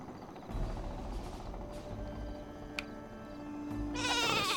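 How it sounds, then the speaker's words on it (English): Sheep bleat in the video game Worms W.M.D amid game sounds, including a sharp click and a loud burst of noise near the end. "The sheep are out to get me, I think."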